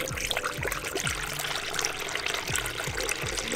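Coolant is poured into a car's cooling system, a soft liquid trickle and glug with small bubbling pops. The sound is close, moderately quiet and uneven, with no talking.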